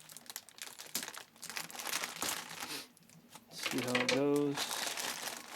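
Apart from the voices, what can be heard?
plastic filament bag being cut open and crinkled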